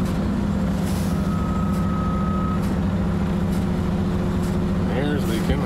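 A truck idles with a loud, steady engine rumble from inside the cab while its air system leaks and the air pump runs. A thin high tone is briefly audible, and faint hisses recur.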